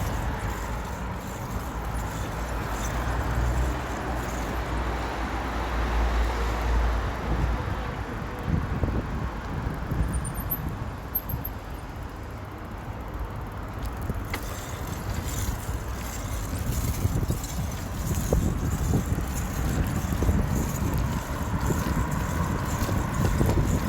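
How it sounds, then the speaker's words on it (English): Strong gusty wind buffets the microphone while someone cycles home outdoors, a continuous low roaring rumble that swells and eases, with no talking. "Where I'm cycling through now is windy as hell."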